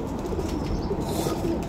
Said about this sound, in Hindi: 29 कबूतर हैं